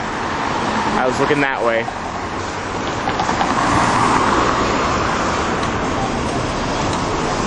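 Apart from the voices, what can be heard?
car traffic at a Melbourne intersection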